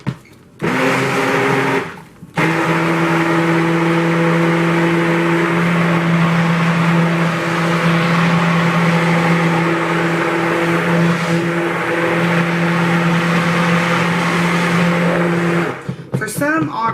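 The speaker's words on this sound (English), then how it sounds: "my stick blender has been making a lot of bubbles here lately" A stick blender whirs continuously through goat milk soap batter, a loud, steady motor hum with a sustained tone lasting most of the stretch, cutting off briefly near the start and stopping at the end.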